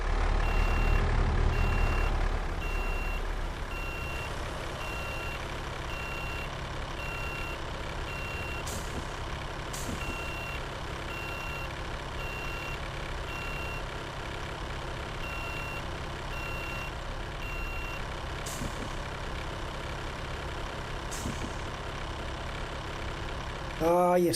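A truck backing up in a video game, its reversing alarm beeping in a steady, evenly spaced pattern for most of the stretch over a constant idling engine drone, with occasional brief bursts and a louder rumble at the start.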